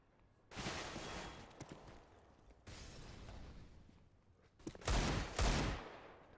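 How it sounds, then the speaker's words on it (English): Desert Eagle pistol shots in a Counter-Strike style game, several sharp gunfire bursts in quick succession, with the loudest pair of shots near the end over a low background hum. "Tasty deagle shots there from Dallas."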